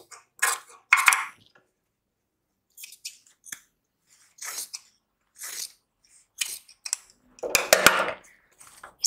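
Scissors trim excess blouse fabric at a stitched joint, producing a series of about nine crisp, close snips and rustles spaced by short silences, the last one louder and longer.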